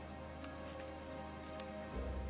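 Rain falls in the video game Assassin's Creed Odyssey, a faint, steady patter of drops under in-game ambience, with no talking.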